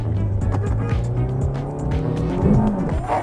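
Heavily loaded cars in a drag race roar as they accelerate together, engines rising in pitch with a brief tire squeal near the end, loud and close.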